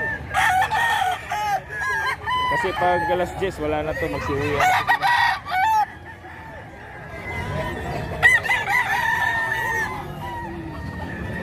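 Gamecock roosters crowing repeatedly at a fighting-cock market in Bocaue, Bulacan, several loud overlapping crows and clucks up close, with people talking in Filipino amid the birds.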